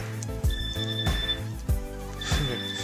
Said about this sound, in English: Yes, we know the phone's ringing.